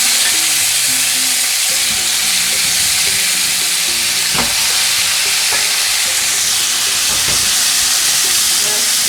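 Browned pine nuts, meat and onion sizzle steadily in a hot pan for a baked stuffed eggplant filling, a loud constant frying hiss with a few sharp scraping knocks of a spoon as the mix is stirred.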